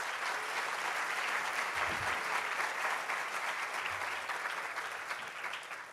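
Sustained applause fills a large hall at a national centenary birthday celebration for Sathya Sai Baba, dense and steady throughout, slowly tapering toward the end.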